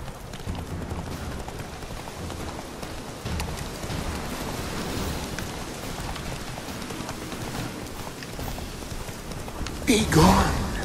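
Horse hooves galloping in The Witcher 3, a steady clip-clop running through the clip beneath a noisy rain-like wash, with a louder burst near the end.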